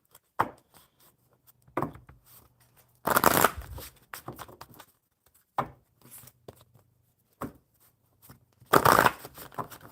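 A deck of cards shuffled for a card pull in short separate bursts, close and crisp, with quiet pauses between each riffle and no voice over the shuffling.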